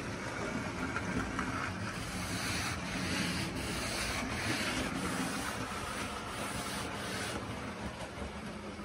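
A cloth wiped along a dirty railway track at a station, giving a faint, steady rubbing scrape under outdoor wind noise, with no talk.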